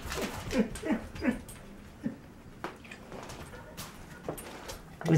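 A dog whimpers and yips in short, repeated high whines, close and moderately loud, with quieter gaps and a final louder whine at the end.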